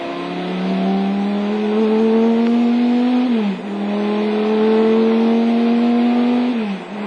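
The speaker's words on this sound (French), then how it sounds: "Un moteur 8 litres qui développe quelques 650 chevaux, un régime moteur équivalent de 6700 tours." A Chrysler Viper GTS-R race car's 8-litre V10 engine roars at high revs on track, pitch climbing steadily through two long pulls, each ending in a brief dip as it downshifts, loud and close.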